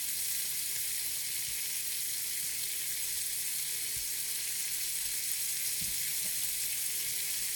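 Bacon frying in a hot pan for Swedish plankstek, giving a steady, loud and close hiss and crackle throughout with a few faint clinks and no talk.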